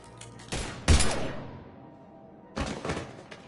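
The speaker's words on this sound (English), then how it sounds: "Now open fire!" Gunfire in the Mass Effect 3 video game, two loud bursts of rapid shots about two seconds apart, each trailing off into echoing quiet.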